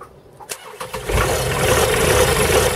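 A Nicols Octo Fly boat's engine starts up close by. A few cranking clicks and stutters give way at once to a loud, steady running rumble.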